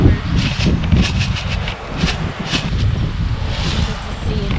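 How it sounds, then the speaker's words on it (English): Strong wind gusts through a garden and buffets the microphone with a continuous, loud low roar and rustle that swells and eases slightly but never lets up. "We don't have this much wind very often."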